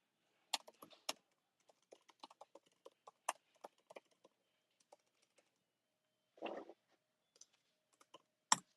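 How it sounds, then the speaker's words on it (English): Keys clack on a computer keyboard while messaging in Discord: sparse, crisp taps in uneven bursts, close and clear, with a short scuffling rustle in the middle and long quiet gaps between strokes. "Typing in Discord."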